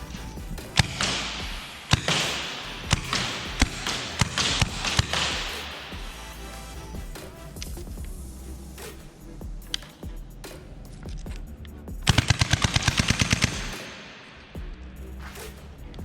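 MILSIG M79A1 launcher fired in semi mode, sharp close pops and thuds spaced a second or two apart, followed by mechanical clicks and a brief rattling burst, no speech.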